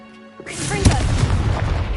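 A Confringo spell explodes in the Hogwarts Legacy video game: a sudden loud booming blast that bursts in after a quiet moment, with a crackling rumble trailing off.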